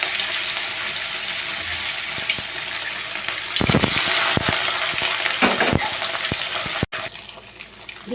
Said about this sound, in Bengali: এবার তেলগুলো ভালো গরম হয়ে গেছে, মাছগুলো আমি ভেজে নেব।